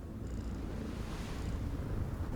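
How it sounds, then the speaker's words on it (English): A stray cat purring in the video game Thief of Tales, a soft low rumbling purr that runs continuously and faintly, with no other sounds. "The stray cat purrs contentedly under the robot's hand."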